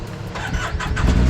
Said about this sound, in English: So when I hit the startup button, my clutch fan turns on, and then you just hit the brake,